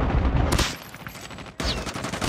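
Rapid gunfire bursts from a Call of Duty video game, loud and dense, pausing briefly in the middle before another heavy volley resumes.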